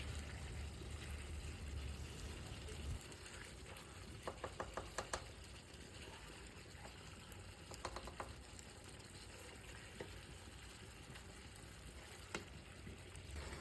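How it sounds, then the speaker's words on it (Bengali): Chicken sautéing with yogurt in a pan, a faint low sizzle under clusters of quick scraping and tapping as a spatula stirs, close but quiet. "দইটা দিয়ে ভালো করে কষিয়ে নেব।"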